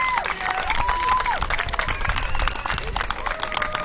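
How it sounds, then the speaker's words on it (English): Crowd at a youth baseball tournament field, Spring Hill National versus Sebring, claps and murmurs in a steady wash of applause with scattered cheers and whistles, people talking amid the noise. "Let's all give Spring Hill National a round of applause."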